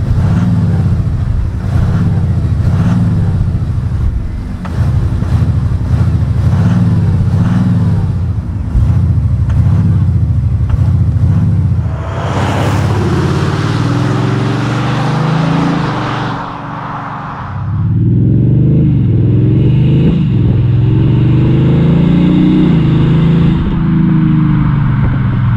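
Exterior engine sound of a 2020 Audi S6 TDI diesel driving outside, a steady low engine drone with rhythmic pulsing, a louder broadband rush as it passes midway, then continued engine hum close by.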